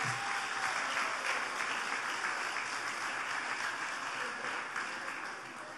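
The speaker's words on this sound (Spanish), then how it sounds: "¿Quieren dar un aplauso por eso?" An audience at a talk by Dr. Dunker gives a soft, fairly distant round of applause, steady clapping that tapers off toward the end.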